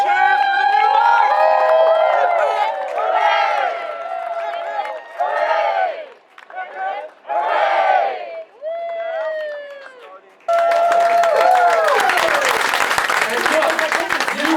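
Crowd at the finish of the FlatRock 50K ultramarathon breaks into loud applause and cheering, with shouting voices throughout, a brief lull of talk and cheers midway, then a renewed burst of clapping and cheering.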